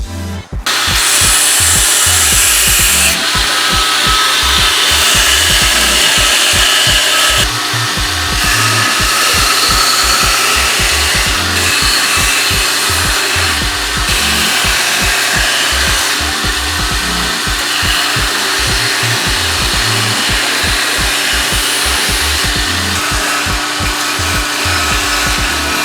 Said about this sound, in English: So now we're going to go ahead and start carving the wood.